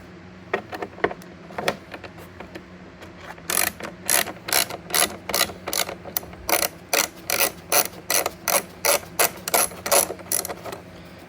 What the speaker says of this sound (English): these 2 bolts here, they're 4mm Allens. I'm going to remove that